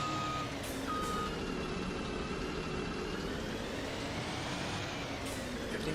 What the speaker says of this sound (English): Reverse beep sound.